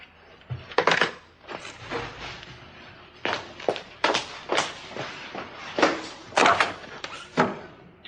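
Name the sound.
someone at the door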